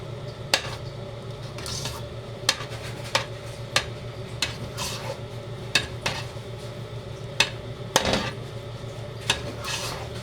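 A spoon stirs a cornstarch maja mixture in a cooking pot, giving repeated sharp scrapes and clinks against the metal at an uneven rhythm over a low steady background hum, close and fairly loud, with no talking.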